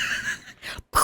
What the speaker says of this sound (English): Sounds like you're trying to clear your throat.